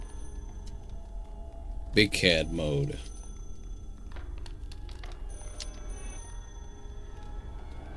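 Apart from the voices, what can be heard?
telephone ringing in a video game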